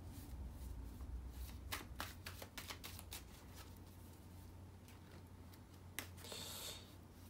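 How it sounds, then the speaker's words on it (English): Tarot cards riffle and snap softly in repeated shuffles, close by and quiet, with no talking. "let me shuffle the cards really well"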